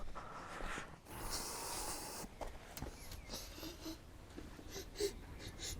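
A few short nasal sniffs and snorts checking for fuel smell at a Jaguar XJC, close and fairly quiet, scattered over low background noise.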